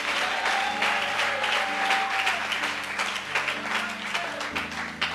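A church congregation applauds the Lord in a sustained burst of clapping and cheering, dense and lively, with a few voices and musical tones underneath.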